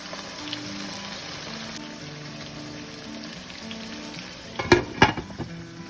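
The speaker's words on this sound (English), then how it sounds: "Give it a nice stir." A pan of chicken karahi sizzles and fries steadily over a gas flame while being stirred, with a few louder scraping clatters near the end.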